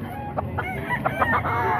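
Several chickens cluck and call in a burst of short, overlapping harmonic notes, close and moderately loud over a low murmur of market background noise at a Bukawi poultry sale.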